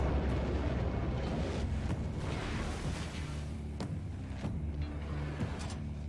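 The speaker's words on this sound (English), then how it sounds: "He's launching himself as a torpedo." A character in Wolfenstein II: The New Colossus launches himself forward like a torpedo, a loud, steady rushing underwater roar with deep rumble and a few sharp whooshing bursts, no talking.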